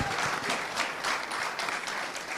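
A dense round of applause from an audience at a startup demo day, sustained and fairly loud throughout with rippling clapping and no clear talk.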